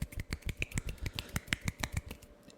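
Rapid one-handed finger snapping made as an ASMR hand sound, a quick run of sharp, close snaps in a steady, slightly uneven rhythm, with no talking.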